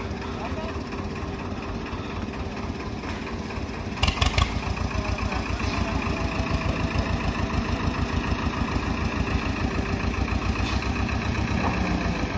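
A Swaraj tractor's engine chugs steadily with a low, rhythmic diesel thump, growing slightly louder partway through, with voices faintly present.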